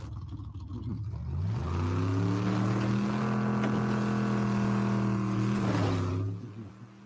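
A vehicle engine in the Fortnite video game hums steadily with a smooth, droning pitch that rises slightly, holds for several seconds, then cuts off.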